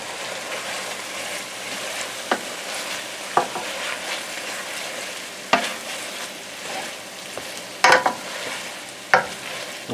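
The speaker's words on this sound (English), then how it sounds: "We're just trying to get the onions and peppers a little pre-cooked." Already cooked meat with onions and peppers frying in a pan, a constant loud sizzle broken by several sharp scrapes and clacks of a utensil stirring, close by and with no voices.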